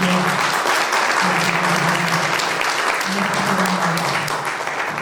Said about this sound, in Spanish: un aplauso y gracias